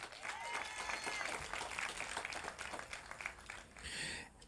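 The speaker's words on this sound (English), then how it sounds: "give her a round of applause for stepping up as well." A crowd claps at an outdoor domestic violence awareness walk event, sustained applause of many hands that thins briefly near the end before swelling again.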